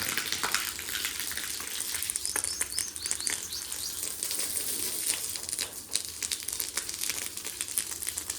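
Water runs and splashes steadily with crinkly patter and scrubbing noises, while birds chirp faintly in the background.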